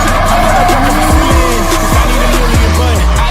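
A car of about 700 horsepower, a Mazda RX-8, does a loud burnout, with tires squealing in repeated sweeping chirps and skids over a roaring engine, close and intense.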